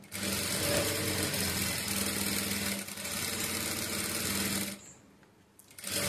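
A sewing machine runs in a steady, close, continuous whir while stitching net cloth and lining for a blouse with thread piping, pausing briefly near the end before starting again.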